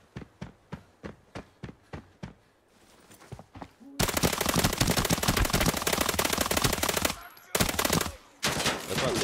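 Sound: gunfire from a new gun in the video game Arena Breakout

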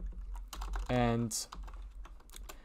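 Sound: typing on a computer keyboard

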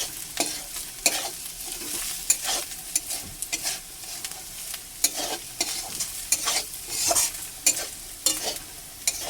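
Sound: stirring frying spices in a pan

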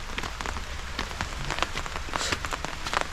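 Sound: rain falling in cardamom plantation

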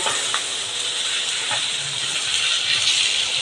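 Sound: dry roasting rice in a pan

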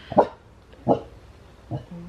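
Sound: dog barking

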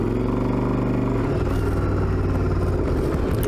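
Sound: Yamaha Drag Star XVS 1100A motorcycle engine clanking and thumping

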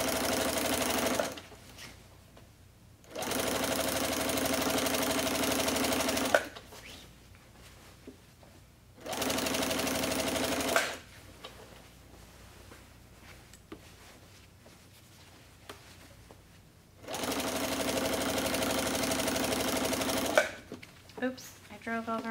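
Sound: sewing machine stitching straight lines on a quilt

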